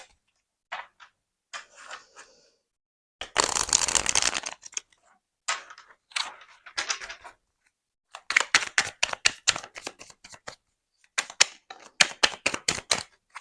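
Oracle tarot cards being shuffled and drawn, a long riffling burst followed by quick rapid flicks and snaps of card stock, crisp and close against a quiet background, with no voices.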